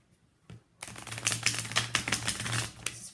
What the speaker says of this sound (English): Okay, so let's shuffle.